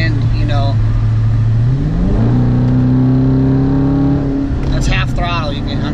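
A 2017 Dodge Charger Daytona with a mid-muffler delete revs at half throttle, its loud engine drone climbing in pitch through a gear and holding strong, heard from inside the car with a voice speaking over it.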